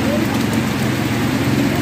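Heavy rain pours steadily during a flood at Medical Pala-o, Iligan City, a loud continuous hiss of water with no break throughout.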